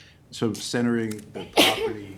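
During a town zoning board meeting, a person speaks and a short, sharp sneeze bursts out near the end, partly overlapping the talking.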